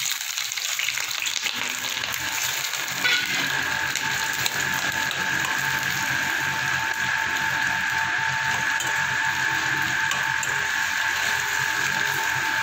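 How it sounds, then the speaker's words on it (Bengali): Onion, ginger, garlic and chili sizzle together in hot oil in a kadai, a steady, close crackling fry with a faint metallic scraping, no voices. "এবার আমি এই পেঁয়াজ, আদা, রসুন, লঙ্কা সব একসাথে একটু ভেজে নেব"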